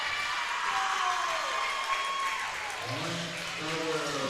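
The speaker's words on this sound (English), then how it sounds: "The crowd to my right, where the Wheaton Herman Norcross fans are sitting, don't agree with the call" Crowd noise in a gym at a high school volleyball match between Breckenridge and Wheaton, a sustained murmur and clapping from fans disputing a call, with voices rising over the din.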